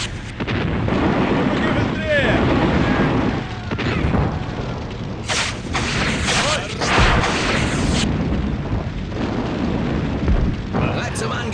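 Heavy rumbling artillery booms and blasts roll continuously in a dense, loud battle scene in the game Sudden Strike Forever, with a sharper crackling burst midway.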